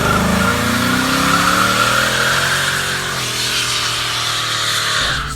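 A big gasoline truck engine fitted with long tube headers revs hard, its loud, close roar climbing and holding steady for several seconds with no talk over it.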